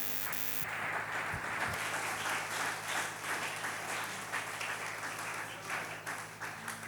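A church congregation at a sermon applauds and claims praise for the Lord, a continuous wash of hand clapping heard from a distance and somewhat muffled, lasting the whole stretch with no talk over it.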